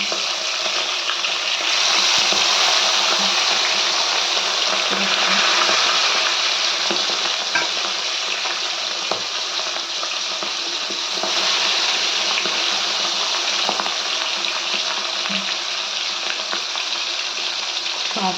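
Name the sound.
fish frying in hot oil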